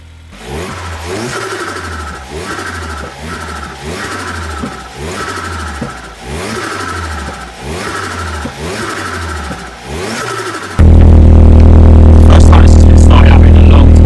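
Restored Opel Astra with a Z20LET engine, cold after six months unused, revving in repeated rhythmic pulses close by, then cutting to a loud, steady, heavy engine drone.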